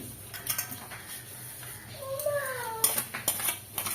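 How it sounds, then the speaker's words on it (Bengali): Steel plates and utensils clink and clatter while being scrubbed at a kitchen sink, with sharp metallic knocks and a brief ringing scrape, close and fairly quiet. "থালা বাসনগুলো তাড়াতাড়ি করে মেজে নিই।"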